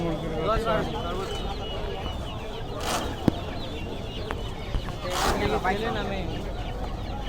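Chickens cluck and squawk repeatedly at a bustling poultry and pigeon market in Tongi, a busy close-up chorus over constant background chatter of people talking nearby.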